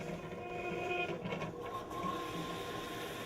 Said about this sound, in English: Flip the toggle switch on the front of the machine up to start the pump.